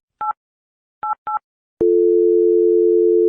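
Telephone call signalling after the same number is redialed: three short paired-tone beeps, then a long steady tone that holds for about a second and a half, loud and clear with nothing else.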